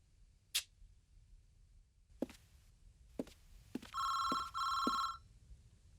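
A telephone rings twice in an indoor film scene, two bright trilling bursts after a few scattered knocks and clicks. It is fairly quiet and heard alone.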